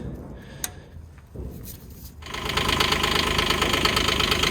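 An engine is started right after a service with fresh oil, catching after a brief crank and settling into a steady, loud, busy running idle with a ticking, knocking edge, close by and with no talking.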